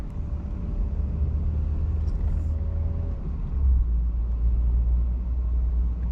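Steady low engine rumble of a car rolling slowly through a silent, upscale residential neighborhood, continuous and close with no voices.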